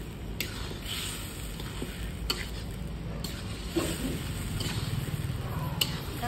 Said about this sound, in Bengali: এবারে মাংসটা ঢেলে দেবো, ঢেলে দিলাম, ভালো করে কষে নেবো